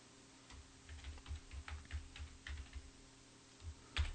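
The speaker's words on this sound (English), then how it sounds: "in front of it I'll type gunslinger" Typing on a computer keyboard, a faint, quick run of soft key clicks in an irregular rhythm, close and alone against a quiet room hum.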